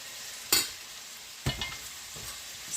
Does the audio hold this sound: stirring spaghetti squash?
yes